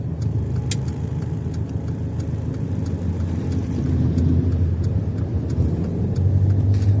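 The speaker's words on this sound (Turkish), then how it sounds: "Aracımızı ileri vitese almışız. Şu anda da güzergah izlemeye devam edeceğiz arkadaşlar." A car on a driving test route hums along with a low engine rumble and road noise, steady and close from inside the cabin, growing slightly louder toward the end.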